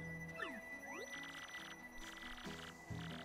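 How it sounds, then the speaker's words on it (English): A bell rings in Paper Mario: The Thousand-Year Door, bright repeated chiming strokes over soft game music and sweeping effects, moderately loud and without talk. "So every time the bell rings,"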